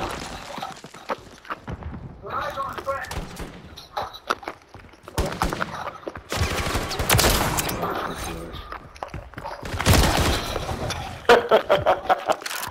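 Heavy gunship gunfire in an online shooter match comes in loud broadband bursts and thuds, spread across the stretch with brief gaps. Rapid clattering impacts build near the end.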